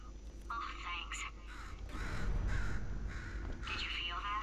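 A crow caws repeatedly in Portal 2, harsh calls coming in several bursts over a steady low game hum, with some game voice mixed in.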